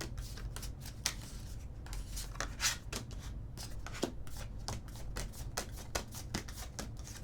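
Moon oracle cards being shuffled by hand, a close, quiet run of rapid riffling flicks and soft slaps repeating steadily throughout.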